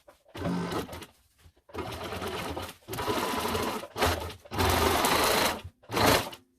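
A sewing machine hems the sides of blackout drapery, running in several steady bursts of rapid stitching with short stops between them, close and fairly loud, with no speech.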